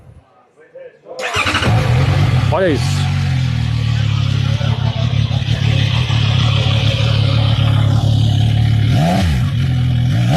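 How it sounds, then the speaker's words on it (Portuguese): A CFMoto 675NK three-cylinder motorcycle, in neutral, cranks and fires up, then settles into a loud, steady idle close by with brief throttle blips partway through; a voice speaks briefly over it. "Deixa eu tentar ligar aqui a moto rapidinho pra vocês"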